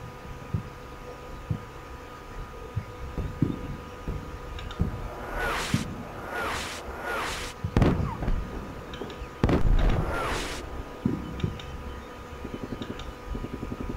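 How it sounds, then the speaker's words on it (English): Artillery shells falling on positions in the Combat Mission Shock Force video game, a cluster of heavy booming impacts midway through, with scattered smaller thumps and cracks before and after, moderately distant and without talk. "There's artillery falling right where I had them"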